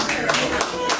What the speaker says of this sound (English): Were you clapping for David as a host